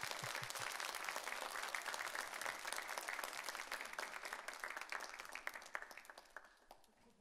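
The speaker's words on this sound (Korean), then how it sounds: "따뜻하게 환영하는 박수로 웰컴하는 박수로 맞아주시면" Warm welcoming applause from a church congregation at a Thursday women's worship service, as a returning missionary comes forward. Dense, steady clapping fills the room, sustained throughout and tapering off at the very end.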